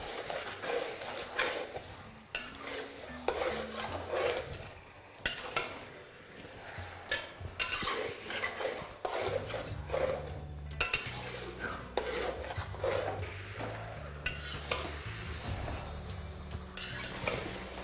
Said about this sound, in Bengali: আর এটা আপনাদের ততক্ষণ মিশিয়ে নিতে হবে যতক্ষণ না মাটনের কালারটা একটু চেঞ্জ হয়ে আসছে